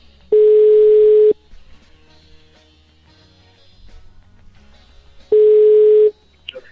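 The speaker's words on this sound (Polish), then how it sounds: "już łapiemy za telefon i dzwonimy do pani Darii." Two long steady telephone ringback tones sound loud and clear while a call is placed, separated by a few seconds of quiet line hiss.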